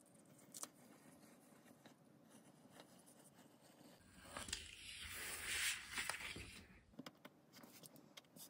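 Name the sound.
scissors cutting out sailor collar pattern pieces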